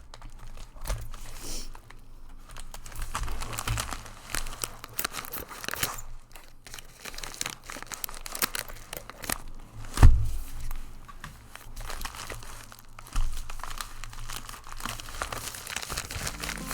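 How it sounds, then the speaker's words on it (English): Plastic packaging being crinkled and peeled away from a mailed book package, a steady close rustle with sharper crackles and a louder snap partway through, no talking. "I'll be quiet while I unbag this"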